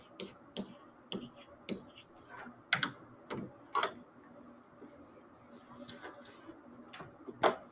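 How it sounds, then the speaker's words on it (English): Buttons pressed on a graphing calculator while entering an equation, a series of sharp, close clicks in an uneven rhythm with brief pauses between bursts. "We have to type this into our y1 and look for zeros."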